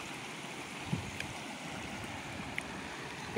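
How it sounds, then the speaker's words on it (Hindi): Steady wash of rushing water from Ananthgiri waterfall near Araku, fed by a small stream running through fields, heard as an even outdoor roar with a few faint knocks. "छोटे छोटे खेत के अंदर जो स्ट्रीम है उसी से ये वाटरफॉल बन रहा है।"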